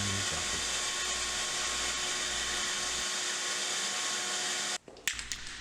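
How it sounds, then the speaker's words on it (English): Power sander grinding the corners off small wooden tiles, a steady loud whine running continuously, then cutting off near the end as a tile is set down with a few light knocks. "sanding the corners off, putting them in a bucket"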